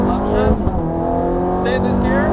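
A Ferrari F430 accelerating on a race track, its engine note rising in a strong, close, sustained howl with tonal harmonics climbing through the gear, loud and continuous for a couple of seconds.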